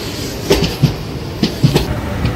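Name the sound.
Tirupati–Puri express train departing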